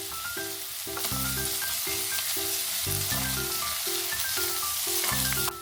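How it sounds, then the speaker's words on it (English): Green onions sizzle steadily in hot olive oil in a pan, a bright continuous frying hiss heard close over soft background music with a simple repeating melody. "Now into a hot pan with a little olive oil and start with the green onions. Let them sizzle until they flavor the oil."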